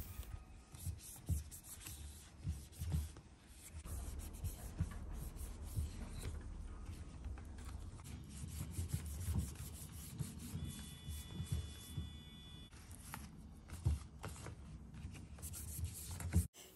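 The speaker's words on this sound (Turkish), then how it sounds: "Yaprağını sildim." Orchid leaves being wiped with a homemade protective oil mixture, giving soft, close rubbing and wiping strokes that repeat irregularly over a low background hum, with no talking.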